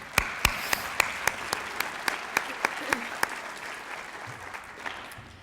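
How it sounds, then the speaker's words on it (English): An audience at an outstanding teachers awards ceremony applauds award presenters with steady, even clapping that holds throughout and fades slightly toward the end, with a few sharp individual claps standing out. "Let's give each of them a round of applause for their generosity."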